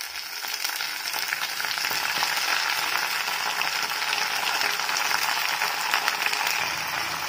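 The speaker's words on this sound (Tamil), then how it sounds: "நாம வெட்டி வச்சிருந்த இந்த கற்பூரவள்ளி இலையை பூண்டோட சேர்த்து வதக்கிடலாம்" Country borage leaves sauté with garlic in oil, giving a dense, steady sizzle and crackle that holds at an even level for the whole stretch, with faint stirring beneath it.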